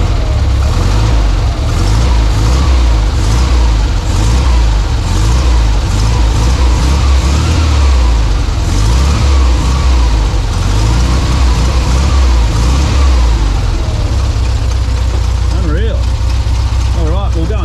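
A 1952 Volkswagen barn door ambulance with its original 25hp motor runs continuously at close range, a loud, steady low idle with a chugging rhythm, while people talk over it.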